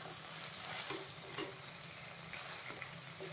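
Dhaniya chicken is mixed in a pan over a low flame. A soft, continuous sizzle carries light, irregular scraping and stirring clicks, faint and without speech.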